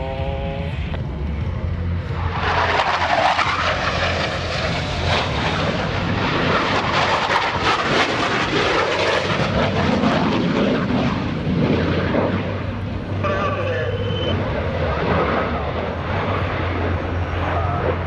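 US Navy Blue Angels jets roar past at the New York Air Show, a loud sustained rumbling jet-engine blast that swells and fades over nearly twenty seconds, with an announcer's voice faintly beneath.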